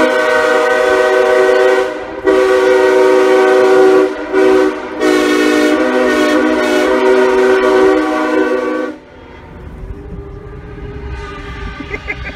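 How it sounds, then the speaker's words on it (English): A loud, sustained Nathan Airchime K5HL train horn blares close by in several long blasts with brief gaps, then cuts off, leaving rumbling background noise. "This train horn."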